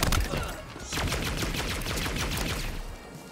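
Rapid gunfire from a green gun in a video game, loud bursts of close shots following one another steadily for several seconds with no talk.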